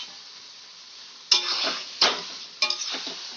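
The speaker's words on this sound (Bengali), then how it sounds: "ম্যারিনেট করা চিকেনটা আমি দিয়ে দেব, দিয়ে আমি ভালো করে কষিয়ে নেব।" Marinated chicken for lanka pora chicken frying in a pan under a soft steady sizzle, punctuated by three sharp utensil scrapes and stirring bursts against the pan.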